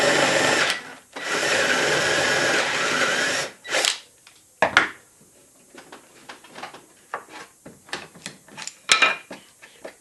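Power drill boring a pilot hole through clamped scrap wood, a steady close whirring run of about three seconds that cuts off, then a brief second burst followed by scattered clicks and knocks of handling.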